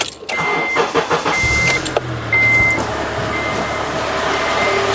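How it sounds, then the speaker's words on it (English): A Honda Element with a VTEC solenoid fault and code P2646, which loses power and surges, idles with a steady low rumble. Intermittent electronic beeps sound over it, and there is no speech. "So as you can hear, the engine is running."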